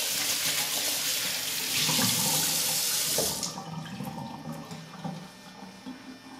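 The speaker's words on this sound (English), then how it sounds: "Rinse my hands off." A kitchen tap runs loud and close as hands are rinsed beneath the stream; the flow cuts off partway through, leaving drips and faint splashes.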